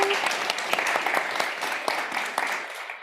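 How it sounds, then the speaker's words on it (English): Audience applause at a universal design day event, a dense steady wash of many hands clapping that carries on for about three seconds and eases off slightly toward the end. "Give her a round of applause, please."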